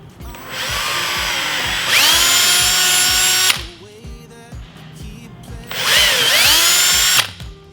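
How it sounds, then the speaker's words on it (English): A power drill bores bolt holes into a roller skate boot in two loud, close bursts of whining motor that rises as it bites, with a pause between them. "So I got my drill, I got my holes marked, and we're gonna do this."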